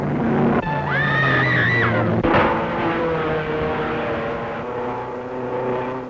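Loud, continuous engine roar with rising and falling pitch as 1930s race cars of 400 to 500 horsepower pass close by at the Nürburgring, with a brief sharp burst partway through.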